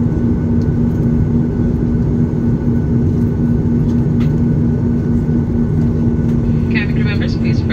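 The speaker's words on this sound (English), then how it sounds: "cabin crew members, please prepare for takeoff." Passenger airliner cabin before takeoff, a steady loud engine and air-system drone filling the space with a constant low hum throughout, a faint higher whine near the end.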